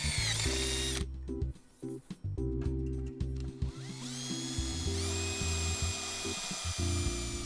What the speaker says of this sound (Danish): borer du for hver 40 cm et 6 mm hul i drænkanalen på undersiden af endeprofilet